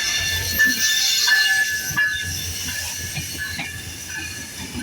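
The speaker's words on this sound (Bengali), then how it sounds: "এই যে 66-27 আমেরিকান জায়ান্ট লোকোমোটিভ লং রুটে নিয়ে বিউটি কুইন একতা এক্সপ্রেস ট্রেনটি আমার সামনে।" Ekta Express intercity train passes at Ishwardi bypass station, hauled by an American-built diesel locomotive number 6627, a loud close rumble of carriages with hissing, wheel squeal and rhythmic clatter, steady and unbroken with no voices.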